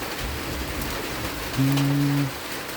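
Rain falls steadily in a continuous hiss, with a low droning tone rising briefly near the end.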